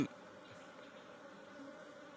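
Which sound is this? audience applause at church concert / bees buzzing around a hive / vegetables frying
bees buzzing around a hive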